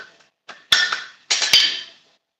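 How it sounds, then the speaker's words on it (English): Two pairs of sharp metallic hammer strikes ring out close by as metal is planished, each light blow leaving a bright ringing decay. "Kind of taking the hammer marks out lightly"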